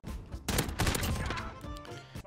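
Gunfire in the video game Modern Warfare: a quick pair of sharp shots followed by a burst of crackling reports, loud and close, then a brief ringing tail.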